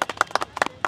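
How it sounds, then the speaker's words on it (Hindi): A small group claps to celebrate a win for a Zomato delivery rider, giving sharp, close hand claps in an uneven, quick rhythm across a brief burst. "इसकी ताली हो जाए।"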